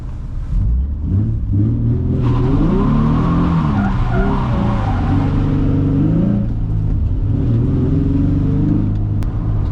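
A Nissan 350Z drift car in a competition battle, engine roaring and revving loudly while tires squeal and skid continuously, close and sustained for the whole stretch.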